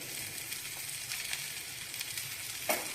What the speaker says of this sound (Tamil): மாங்காய் வதங்கிட்டுருக்கு